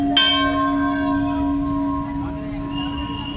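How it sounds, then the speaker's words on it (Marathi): A large bell at a temple, rung during a Mahashivratri visit, sounds one strong struck tone that hangs and slowly decays with a long, steady hum, close and loud over faint background murmur. "घंटा, ती घंटा वाजते।"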